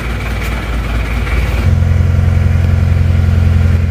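A rebuilt Isuzu Panther 2.3 diesel engine catches after cranking and settles into a steady, even idle, a loud close low rumble that runs on without any talk.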